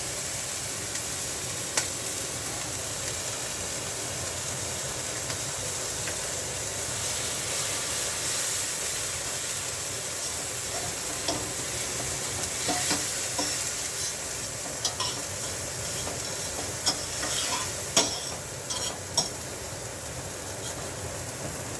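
An egg frying in virgin olive oil with seasoning, ahead of sausage fried rice: a steady, loud sizzle hissing throughout, with scattered sharp pops and crackles growing busier toward the end, no talking.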